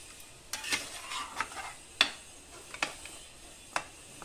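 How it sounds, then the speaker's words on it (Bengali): Country chicken curry is stirred and mixed with added water in a pan over a high flame, with a soft simmering hiss broken by a handful of sharp spoon scrapes and knocks at irregular intervals, nearby and with no talking. "জল অ্যাড করার পরে সব কিছুকে আমি ভালোভাবে আরেকবার মিশিয়ে নেব আর মাংসটাকে ফুটিয়ে নেব"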